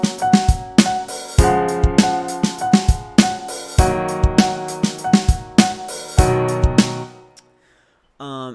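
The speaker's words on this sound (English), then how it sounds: "If I had a piano selected, it would sound like this." A piano plays repeated chords in a steady quarter-note pulse, bright and close, with each chord struck evenly before the last one rings out into a short silence at the end.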